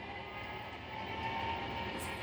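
A model train rolls back into the station on a home layout, giving a steady, close rumbling hum with a faint whine that lasts the whole short stretch, with no talking.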